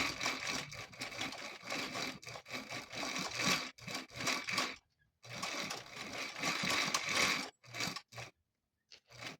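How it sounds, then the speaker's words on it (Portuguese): A domestic sewing machine runs a small, dense zigzag stitch on an underwired bra, in repeated loud bursts separated by short pauses and a few quiet gaps. "Volto fazendo o zigue-zague bem miudinho, bem pequenininho, quase cheio, no ponto 1."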